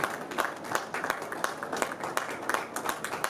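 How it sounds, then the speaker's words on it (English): A modest round of applause at an architects' forum in Lagos welcoming a professor, with distinct hand claps in an uneven rhythm that stays fairly even in loudness. "Can we please give a round of applause as we welcome Professor Abiola Sani."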